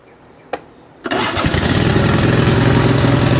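A garden tractor engine cranks and starts: a short mechanical click, a pause, then the motor catches with a sharp burst and settles into a loud, steady running roar close by.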